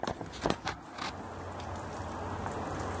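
Steady summer rain falling in Melbourne, a continuous soft hiss of drops on surfaces, with a few louder splashes or knocks near the start before it settles into an even wash.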